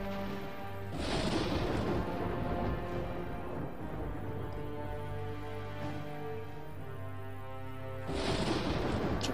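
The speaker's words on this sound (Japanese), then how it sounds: "今後この辺りが砲撃を開始します。" Artillery bombardment in the PS2 naval war game Teitoku no Ketsudan 4, with a heavy crashing blast near the start and another near the end over a continuous low rumbling bed.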